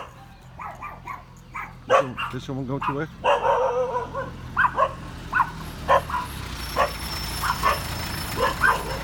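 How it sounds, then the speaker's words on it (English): Several dogs at a fish farm in Thailand bark in short repeated bursts, with yips and a whimpering whine among them, fairly close, while a person talks over the barking. "Dogs, just doing what dogs are supposed to do."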